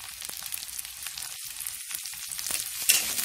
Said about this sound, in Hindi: इसको अभी 5 मिनट के लिए भूनेंगे